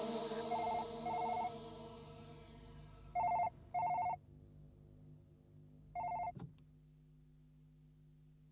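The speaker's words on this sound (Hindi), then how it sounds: "हाँ, हाँ, अभी फोन आया था शैलेश का।" A telephone bell rings in short double bursts, two near the start and two more a few seconds later, then one last burst, loud and close against a quiet indoor background of a Hindi horror TV serial.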